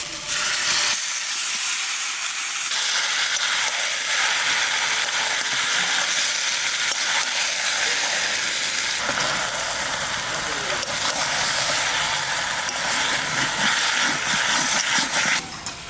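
Mutton pieces frying in a pan with browned onion, a loud, steady broadband sizzle and hiss running continuously throughout, with occasional stirring shifts in texture.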